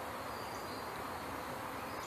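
Newly installed package honeybees hum in a hive as a caged queen is pinned between frames, a dense, steady buzz close to the microphone.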